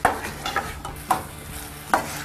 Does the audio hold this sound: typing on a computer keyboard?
no